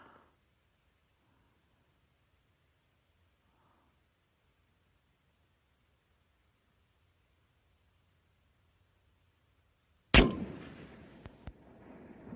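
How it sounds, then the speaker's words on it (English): A single loud rifle shot from a 6.8 Western firing a 162-grain copper bullet cracks sharply after a long quiet stretch, followed by a decaying rumble and echo. "Yeah, I'll shoot a little bit over it."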